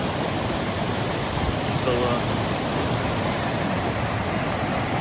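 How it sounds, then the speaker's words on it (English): A creek running much higher than usual on a hike near Big Bradley Falls in Saluda, North Carolina, rushes as a constant broadband roar, with a brief spoken word over it. "But this creek is up way more than usual."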